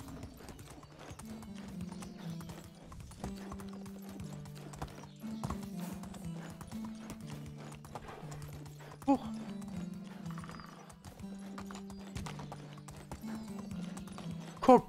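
A horse ridden in Medieval Dynasty clip-clops at a steady, even walking rhythm throughout, hoof falls fairly close, with calm music underneath and brief neighs now and then.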